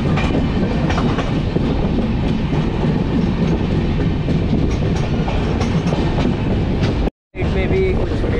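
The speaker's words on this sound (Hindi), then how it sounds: "और ये हमारी पूर्वा एक्सप्रेस ने एक्सलेट करना स्टार्ट कर दिया" The Poorva Express passenger train, on a New Delhi route, picks up speed on the rails, a loud continuous rumble with rhythmic wheel clatter from onboard, and a brief dropout near the end.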